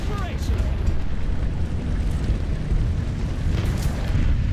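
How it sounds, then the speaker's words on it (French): Artillery shell explosion in the tank game War Thunder, set around an M5A1 light tank: a heavy, rumbling boom that fills the scene with dense low-end roar and continues as sustained loud rumble, with someone talking over it. "Coup d'artillerie."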